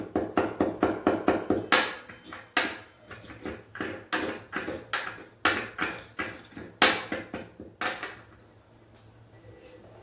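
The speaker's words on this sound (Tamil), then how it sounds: "அதுக்குள்ளே நம்ம ஏலக்காவை தட்டிடுவோம்" Cardamom pods pounded in a kitchen while cooking sweet banana adai, a steady run of sharp, close metallic thuds in quick rhythm that slows and stops near the end.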